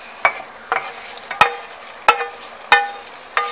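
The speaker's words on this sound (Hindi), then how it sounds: "तो अब हम फ्लेम को ऑफ कर देंगे और इसके अंदर डाल देंगे अपने सभी ड्राई फ्रूट्स" Fried dry fruits dropped into a pot of sheer khurma after the flame is switched off, heard as six separate clattering knocks and scrapes at irregular intervals, close and fairly loud, with no speech.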